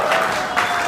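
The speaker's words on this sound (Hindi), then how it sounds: "तो पे आउट के लिए जबरदस्त तालियां होनी चाहिए।" A short, dense burst of audience applause fills a Safeshop network marketing meeting hall, steady and fairly loud from start to finish with no one speaking over it.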